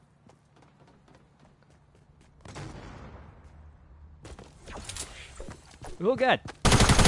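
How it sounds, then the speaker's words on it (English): Gunfire rings out in Fortnite. Quiet footsteps give way to loud, close bursts of rapid shots near the end, and a man exclaims briefly as the firing starts. "there's already people firing at me"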